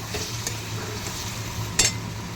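Poppy seed paste gets a brief stir in a pan, a soft low sizzle with a couple of light scraping strokes, the second a bit louder, over a faint steady background hum.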